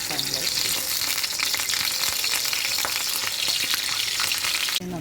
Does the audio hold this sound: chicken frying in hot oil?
yes